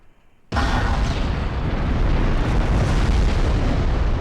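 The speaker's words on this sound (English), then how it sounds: "The Devon fires again." Battleship Devon's main guns fire in a naval battle against the Garantia, heard as a sudden heavy blast that swells into a sustained, loud, rumbling roar of gunfire and explosions.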